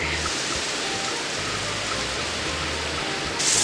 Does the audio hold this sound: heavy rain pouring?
yes